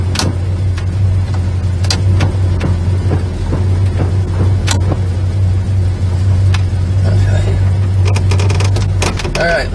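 A 1970 Plymouth Superbird drives along with a steady low engine drone throughout, punctuated by scattered clicks and thumps, while people talk over it.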